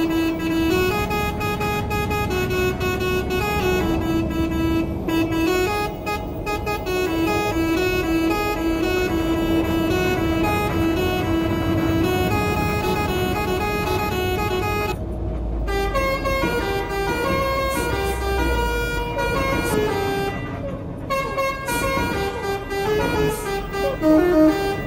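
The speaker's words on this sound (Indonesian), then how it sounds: "klakson ini mempunyai 8 modul alias 8 nada atau suara yang berbeda" An Alzifa telolet horn with eight tones sounds on a Haryanto Patas bus in Euro Truck Simulator 2. Loud melodic horn notes play one after another almost without a break, over a low engine rumble.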